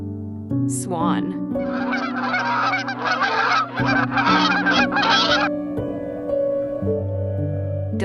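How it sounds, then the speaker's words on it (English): A swan calls repeatedly in loud, dense bursts of honking, goose-like cries lasting several seconds, over a steady low musical drone, close and clear. "Swan."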